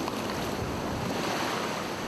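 Rough surf at Haeundae beach in Busan, strong enough to force a lifeguard swimmer back to shore, roars as a dense, steady wash of breaking waves with wind buffeting the microphone, loud and continuous with no voices.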